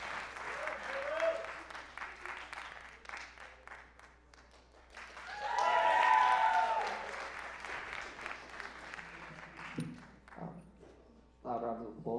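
A comedy crowd at the Haymarket Theatre applauds as the next comedian takes the stage, with clapping and cheers that swell loudly midway and then thin out, while a voice speaks over parts of it.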